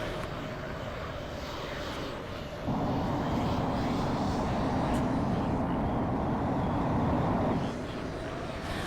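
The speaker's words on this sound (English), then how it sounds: "let's just check out how the landing is for a fighter jet" Eurofighter fighter jet landing in a flight simulator, a steady broadband jet roar that grows louder and fuller midway, then eases back near the end, with no talk over it.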